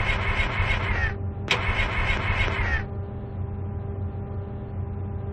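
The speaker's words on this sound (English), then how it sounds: "A heavy-duty excavator." Heavy-duty twin-cam turbo diesel excavator in the In Cold Blood game: a steady low diesel rumble with a raspy mechanical layer that cuts out briefly, returns, then drops to a softer idle drone.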